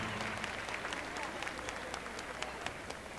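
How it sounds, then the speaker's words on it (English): Crowd applause for the competing teams on the floor at the closing of a regional team competition; a continuous, fairly soft wash of clapping from a distant audience in a large arena, with a hint of voices mixed in. "So a big round of applause for all of our teams on the floor"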